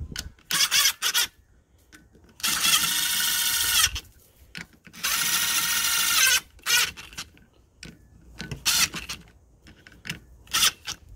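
Bolts on a CR85R motorcycle clutch assembly are tightened with a power tool, heard as several loud bursts of whirring and ratcheting of varying length, separated by quieter clinks and handling noises, with no talk.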